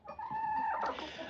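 A chicken in a backyard coop lets out a single brief squawk, close and moderately loud, during snack time.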